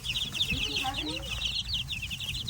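Buff Minorca baby chicks, a week old, cheep and cluck in a dense, continuous high-pitched chorus close by, with a person's voice talking briefly underneath.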